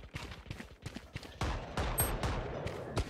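Rapid gunfire in the Valorant video game, a quick string of sharp shots followed by denser sustained firing, fairly faint in the mix with little talk over it.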